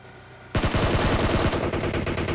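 A burst of rapid automatic gunfire erupts in PUBG Mobile after a quiet moment, loud, dense shots rattling for about two seconds with a brief stutter midway, no voices.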